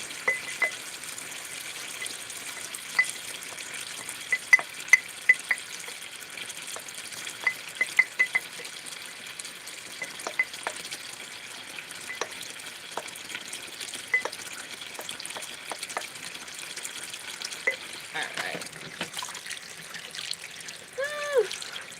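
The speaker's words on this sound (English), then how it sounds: "I'm up Saturday night washing some dishes." Dishes being washed under running water, a steady trickle with scattered light clinks and knocks of plates and utensils throughout, fairly quiet and close, without talking.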